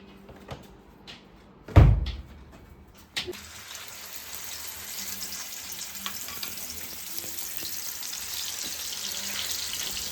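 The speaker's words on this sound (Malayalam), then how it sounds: "അങ്ങനെ നമ്മൾ മീൻ വറക്കാൻ ഇട്ടിട്ടുണ്ട്" Fish rubbed with masala frying in a pan, with a loud clatter as it goes in, then a steady, bright sizzle that continues close by.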